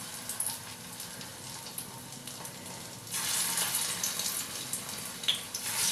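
Small shaped pieces of spiced shrimp pakora batter dropped into hot oil, a hiss that swells suddenly into a louder, rushing bubbling fry and keeps going, with no talking.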